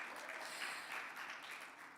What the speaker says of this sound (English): All right, you can clap for that.